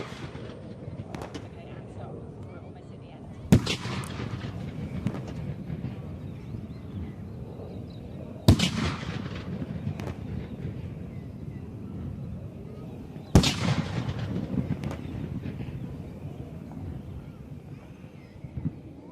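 Ceremonial cannons fire three single loud booms spaced about five seconds apart at an Australian military parade, each blast sharp then rolling off, over steady wind and crowd background.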